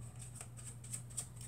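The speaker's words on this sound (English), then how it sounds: "So Rich gives him a good shuffle here." Playing cards are shuffled by hand, giving quick, soft riffling flutters in a brief, quiet burst over a faint low hum.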